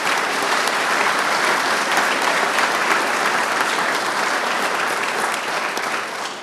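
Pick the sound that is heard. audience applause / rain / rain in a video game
audience applause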